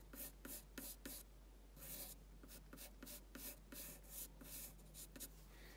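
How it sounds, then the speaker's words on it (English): Pencil sketching a mustache onto paper for a Santa portrait, a run of quick scratchy rubbing strokes in short bursts with brief pauses, close and fairly quiet, with no talking. "we're gonna start drawing his mustache and it comes out like this"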